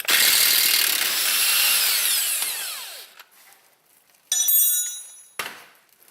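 An impact wrench hammers loudly on a strut nut of a Volvo XC90 for about three seconds, then winds down. Two shorter bursts of the tool follow, all close up with nothing else heard.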